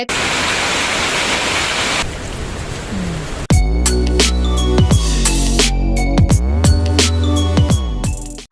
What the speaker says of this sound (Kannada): ನಮ್ ಕಡೆ ಅಂತೂ ಸಿಕ್ಕಾಪಟ್ಟೆ ಮಳೆ